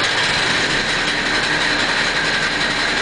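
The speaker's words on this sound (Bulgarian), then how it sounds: "поставяме локомотива в работно състояние, чрез натискане на бутона за стартиране" Diesel locomotive engine running steadily and loudly after being started with the start button, a dense continuous rumble and roar without pauses or voices.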